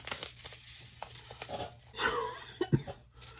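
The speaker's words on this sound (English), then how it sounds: "I have asthma and I cough a lot" A person with asthma coughs a few times close by, with a throat-clearing sound and some crinkling noise around it.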